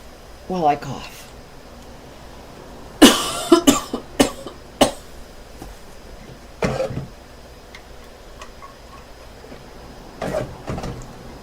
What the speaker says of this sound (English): Excuse me while I cough.